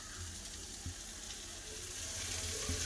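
Flat beans frying with onion and chili powder in a pan, a faint, soft sizzle with light stirring clinks and a gradually rising hiss, no talking.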